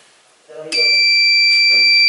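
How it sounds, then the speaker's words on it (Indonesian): An MQ2 gas leak sensor alarm on a smart home prototype sets off its relay-driven buzzer: a loud, steady electronic tone starts abruptly and holds continuously, with faint voices and handling noise underneath. "Coil relay tersebut beroutput buzzer, maka ketika MQ2 aktif, buzzer akan menyala."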